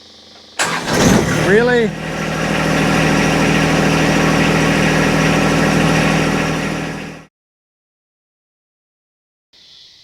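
A John Deere 2025R compact tractor cranks briefly, fires, and idles steadily and loudly for several seconds, then shuts off into silence, with a short spoken word near the end.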